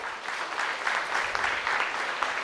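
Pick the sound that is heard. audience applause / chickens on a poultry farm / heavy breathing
audience applause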